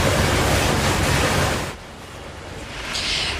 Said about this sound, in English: Crews were busy dousing the burnt 3-story building with water hoses